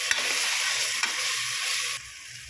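Mutton pieces with ginger-garlic paste and spices being stirred in a hot pan for mutton biryani, a close rasping sizzle with spoon scrapes that quiets near the end, no talking.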